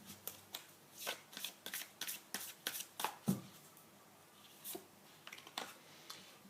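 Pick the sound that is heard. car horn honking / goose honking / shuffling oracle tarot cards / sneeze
shuffling oracle tarot cards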